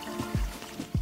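Spring water at the source of the Bóbr river trickling into a small stream, soft close gurgles and a few low splashes over a quiet outdoor background, no talk.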